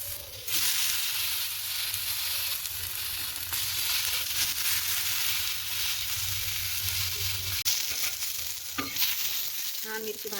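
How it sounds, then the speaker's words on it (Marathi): Green chillies roasting in oil on a tawa, a continuous close sizzle and crackle with occasional stirring scrapes and a few sharper clicks near the end. "मिरची स्वच्छ पाण्यामध्ये धुवून तव्यावर गरम करायला टाकूया."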